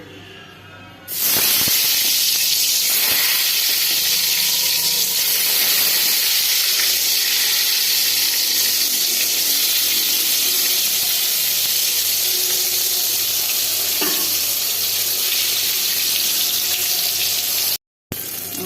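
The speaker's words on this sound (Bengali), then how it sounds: "বেগুন ভাজি করব কড়াই বসিয়ে দিয়েছি" Salted, turmeric-coated brinjal slices drop into oil in a kadai and set off a loud, continuous hiss that holds steady for the rest of the stretch, with a momentary cut near the end.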